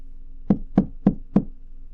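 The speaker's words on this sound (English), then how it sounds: "Been a long time since I've had to knock at that door" Four evenly spaced knocks on a wooden door, firm and close, sounding alone over a faint low hum.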